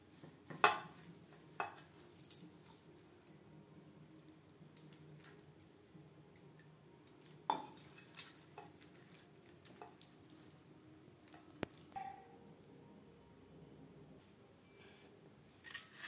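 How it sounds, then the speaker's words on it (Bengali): Batter for a rohu (rui) fish fry being stirred by hand with water added, giving quiet, irregular wet squishing and scraping close by, with a few sharper clinks and splashes scattered through. "অল্প অল্প করে জল দিয়ে একটা ব্যাটার আমি তৈরি করে নেব।"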